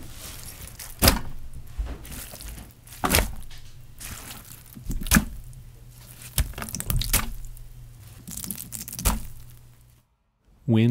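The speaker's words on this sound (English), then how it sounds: "Wet slop plop.wave." Wet slop and plop effects: a string of sharp, squelchy drops landing roughly once a second over a low background hum, ending in a short gurgle.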